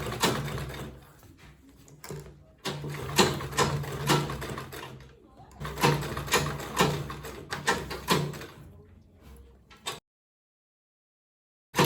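A sewing machine stitches Ankara fabric for a bowler bag along a half-inch seam, giving rapid mechanical chatter in bursts with short pauses between runs, close and fairly loud, then stopping into silence.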